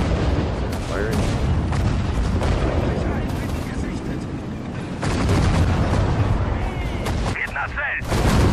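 Artillery firing in Sudden Strike 4, a World War II strategy game set in the Battle of Berlin, with repeated booming blasts over a continuous battle din while voices talk throughout.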